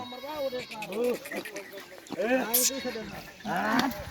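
A large male goat in a village bleats in several short harmonic calls, close to the microphone, while people talk nearby.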